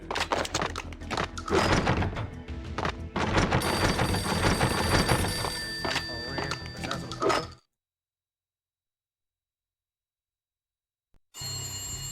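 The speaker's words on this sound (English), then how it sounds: "A beaten-up phone in the entrance hall was ringing." An old, battered telephone rings in the entrance hall of a building in Max Payne, with repeated bell tones over a busy game soundtrack. The sound cuts to silence partway through and returns near the end.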